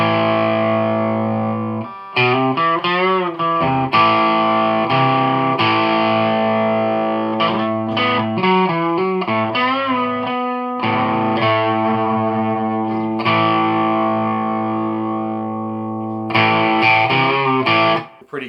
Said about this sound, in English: This is with the gain barely on, just barely turned on.